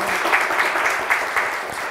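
Brief burst of studio audience applause on a Turkish word game show, steady close clapping lasting under two seconds.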